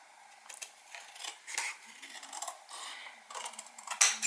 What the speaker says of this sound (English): I'll try with bigger scissors.